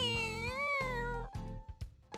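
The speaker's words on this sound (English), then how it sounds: "Meow." A cat in the video game Cardfight!! Vanguard: Lock on Victory!! meows twice in long, drawn-out cries, fairly close and clear, followed by a few short soft thumps.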